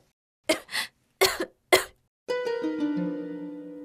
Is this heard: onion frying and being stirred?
no